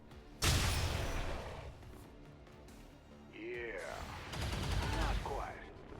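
Gunfire from XCOM 2 Long War of the Chosen cracks out in a sharp burst, followed by softer shots and a warbling electronic whine, moderately loud with no talk.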